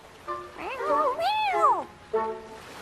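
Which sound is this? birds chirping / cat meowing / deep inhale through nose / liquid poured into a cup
cat meowing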